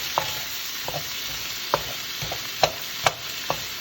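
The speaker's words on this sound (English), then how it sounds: "So I'm sauteing everything, because lentils are easy to cook" Lentils and vegetables sizzle steadily in a hot pan, with a constant close frying hiss and a utensil scraping and tapping through the mix every half second or so.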